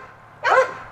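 A single sharp bark from an English bulldog at a kennel, close and loud, rising suddenly out of quiet room noise.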